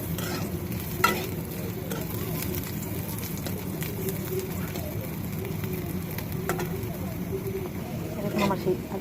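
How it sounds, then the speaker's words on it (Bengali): Potatoes frying in a pan until reddish-brown, with a continuous dense sizzle and stirring scrapes, plus a few sharp clicks and pops, close up and steady from start to finish. "এখন আমার সেই আলুগুলো লাল লাল করে ভাজা হয়ে গেছে,"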